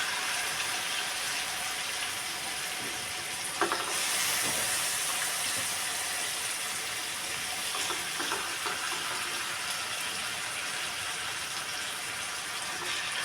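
Marinated chicken pieces frying in butter in a pan give a continuous, close, steady hiss of sizzling with a few faint clinks partway through and no voices.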